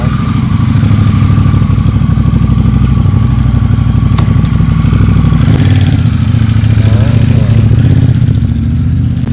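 A motorcycle engine runs steadily and loudly up close for the whole stretch, a constant low throbbing with some clatter, and faint voices underneath.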